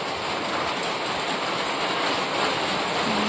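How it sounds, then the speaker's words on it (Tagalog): Heavy rain pours down steadily during a rainy-season evening, a dense, even hiss with no voices over it. "Malakas na naman yung ulan."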